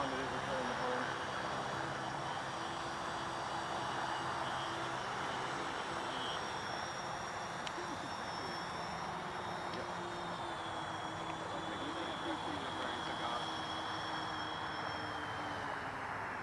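A small DJI Phantom-type quadcopter drone flies in strong wind while returning home, giving a steady, faint, broadband whirring hum mixed with wind rush that continues unchanged throughout, with a thin high whine above it.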